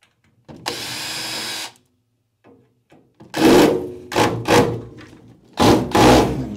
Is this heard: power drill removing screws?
yes